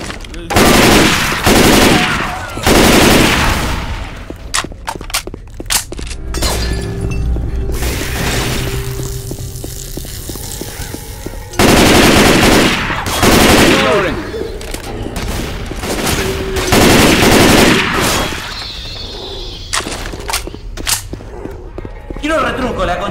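Rifle fire in Left 4 Dead 2 comes in loud bursts of rapid automatic shots separated by pauses, with clanking weapon sounds and voices talking between the volleys.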